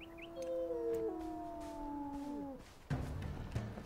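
A wolf-like dog in the video game Enshrouded howls in long, wavering tones that slide downward, with several overlapping voices, before a brief scuffling noise ends it.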